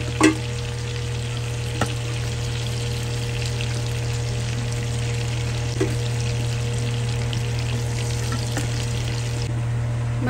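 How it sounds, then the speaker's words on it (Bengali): Prawns frying in a pan, a continuous near sizzle with occasional spatula taps and a steady low hum underneath, no talking. "চিংড়ি মাছ দু পিঠ ভালোভাবে ভাজা হয়ে গেছে"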